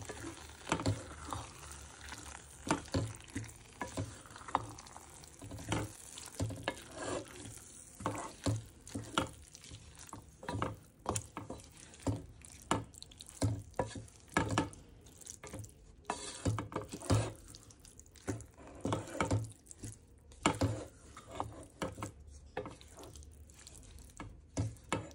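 A cauliflower gongura biryani mixture is stirred in a pot, with a steady crackling sizzle and frequent scraping, clattering spoon strokes repeating irregularly throughout, close-up and moderately quiet, with no talking.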